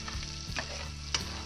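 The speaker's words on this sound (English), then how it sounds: "And let it saute a little bit." Butter and garlic sauté gently in a pan at low to medium heat, a soft continuous sizzle with a couple of brief utensil scrapes, faint and close with no voices.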